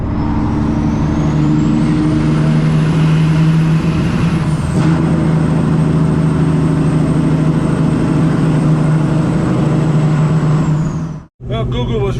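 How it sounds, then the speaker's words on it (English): Heavy truck engine roaring steadily through a tunnel, a loud sustained low drone with a pitch shift midway, then a sudden cutoff near the end. "You gotta have Jake brakes in the tunnel."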